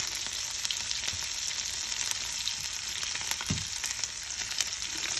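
Chana dal, urad dal and dried red chilli fry in hot oil, a loud continuous sizzle with crackling, close up and without voices.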